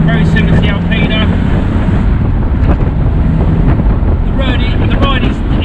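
A BMW Z4 M Roadster engine drones while driving on a rough road, mixed with heavy wind buffeting and road rumble, while someone talks over it.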